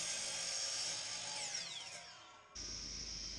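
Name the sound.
miter saw cutting MDF board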